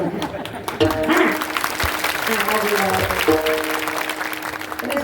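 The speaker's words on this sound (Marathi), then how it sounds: "तिरुपकर टाळ्या वाजू वाटले तर प्रेमानं वाजवा" A kirtan audience at an Akhand Harinam Saptah gathering claps in a burst of applause, mixed with voices and some chuckling throughout.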